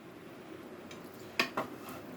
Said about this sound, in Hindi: अब मैं ये डिश में डाल रही हूँ सालन।